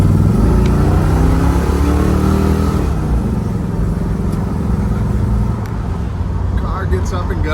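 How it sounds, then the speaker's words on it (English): A 1968 Oldsmobile Cutlass convertible with a 455 big-block engine pulls hard on the road, its loud, steady exhaust drone and engine roar dominating, with a voice talking over it. "Car gets up and goes, big block power."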